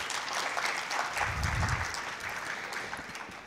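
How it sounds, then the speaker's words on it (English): An audience applauds the team at an agricultural innovation event: moderately loud, sustained clapping heard from a distance, with a brief low thump near the middle. "Can we have a huge round of applause for the team"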